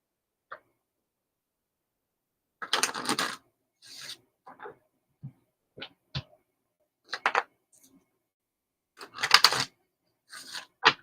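Tarot cards being shuffled during a live reading, in short, scattered bursts of riffling and sliding card noise separated by silent gaps, close and moderately loud with no talk.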